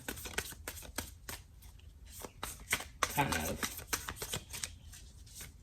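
A matte-finish deck of cards is shuffled close by in quick riffling bursts, while a person talks briefly partway through.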